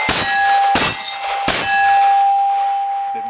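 Three sharp metallic clangs at an even rhythm as shots from a Rock Island Armory 1911 9mm pistol strike steel targets, each ringing loudly and the last one decaying slowly.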